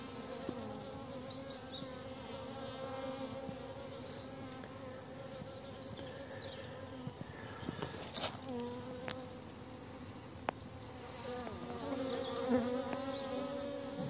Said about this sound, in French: on voit que les abeilles sont un peu groggy